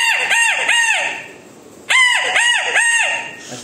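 A person imitating the crow of a grey junglefowl rooster, two bursts of rapid, rising-and-falling vocal calls, loud and close with a short pause between them.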